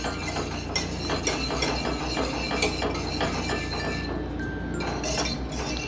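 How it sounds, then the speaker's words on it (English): A whisk scraping and clinking in a pan of Frank's Red Hot hot sauce on medium heat, a fast rattling, ratchet-like rhythm that runs steadily and close throughout. "I'm just gonna whisk this,"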